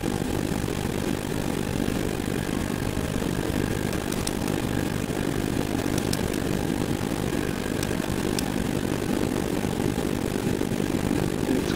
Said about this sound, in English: And now we just shut the engines down